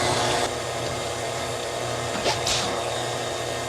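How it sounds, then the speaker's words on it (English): Electric stand mixer whirring steadily while creaming eggs and vanilla into chocolate Oreo cookie dough, a continuous mid-level motor hum with a few brief scraping bursts. "And do we just love this mixer?"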